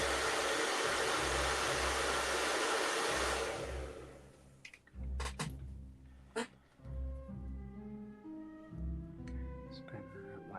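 Hair dryer or heat gun blowing steady broadband air noise on a custom Black Series Han Solo (Endor) action figure for about three and a half seconds, then cutting off, leaving quiet handling clicks and a low background hum.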